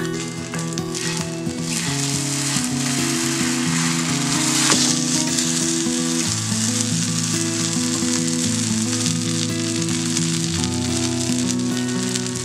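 A Madurai mutton kari dosa fries in oil poured around its edge on a hot pan, giving a loud, steady sizzle and crackle that lasts throughout, with bright spitting over a low hum and no talk.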